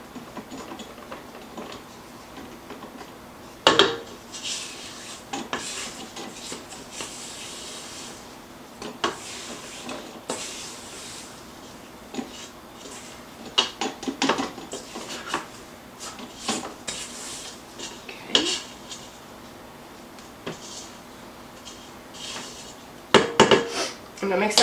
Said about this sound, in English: I'm just going to scrape down my bowl